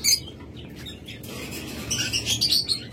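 Caged pet lovebirds and cockatiels at a bird sale chirp and tweet in quick, bright bursts, a few close calls rising and falling, with light rustling between them and no talking.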